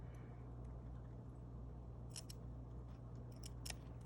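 Scissors snip through face-mask fabric near the inside of a stitched triangle: a few sharp, close cuts over a low steady background hum.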